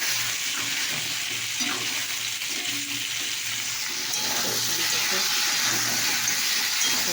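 Water poured into a hot cooking pan, giving a sustained hiss and sizzle with faint stirring and background murmur throughout, fairly close and steady.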